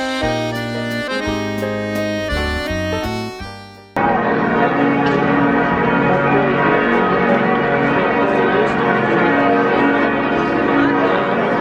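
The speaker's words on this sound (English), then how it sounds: "Mesmerized by these incredible acoustic church bells." Church bells ring in Strasbourg, a few seconds of distinct, tuned tolling that swells into a dense, loud wash of overlapping peals carrying on steadily to the end.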